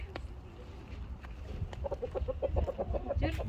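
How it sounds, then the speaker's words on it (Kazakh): Chickens and young chicks clucking in a coop, a string of soft, quick clucks building through the second half over a low rumbling background, with a voice faintly present. "Тауықтарым, балапандарым қалайсыңдар, жақсысыңдар ма?"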